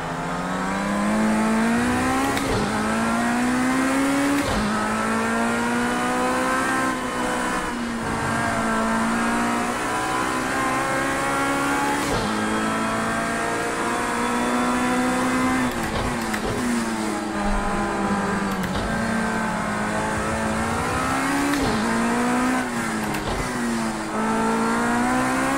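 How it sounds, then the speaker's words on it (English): A race car engine in the video game Project CARS 2 drones and revs continuously, its pitch climbing and falling through repeated gear changes, loud and up close. "I like the sound of this car."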